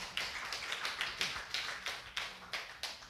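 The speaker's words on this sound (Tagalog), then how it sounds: "Pumalakpak po tayo sa Diyos." A church congregation in a Filipino service claps in unison, a steady rhythmic series of about ten crisp claps at moderate distance with no talking.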